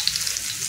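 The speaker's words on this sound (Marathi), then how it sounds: "इथे एका पातेलीमध्ये मी तेल गरम करून घेतलेले आहे, त्याच्यामध्ये लसूण टाकून घेऊया" Garlic sizzles in hot oil in a pan, a steady close crackling fry over the whole short moment with no voices.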